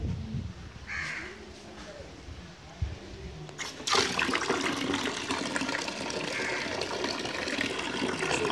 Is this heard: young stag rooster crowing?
no